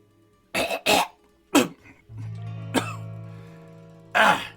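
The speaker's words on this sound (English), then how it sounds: "spits on the floor, clearing his throat" A few rough throat-clearing hacks and coughs in quick succession, close by, followed by a low steady hum and one more harsh clear.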